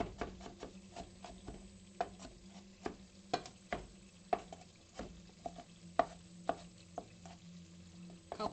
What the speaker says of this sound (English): Ooh, the onions are cooking.